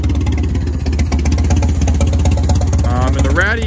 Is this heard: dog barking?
no